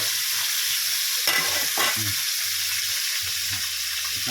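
Food sizzles steadily in a hot pan while frying, with a utensil scraping and stirring a couple of times over the frying noise.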